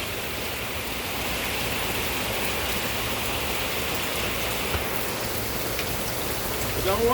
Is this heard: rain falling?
yes